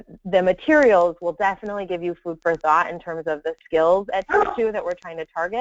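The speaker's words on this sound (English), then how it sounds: "And sorry about my dog." A pet dog yips and barks in the background, partly masked by a person speaking steadily close to the microphone.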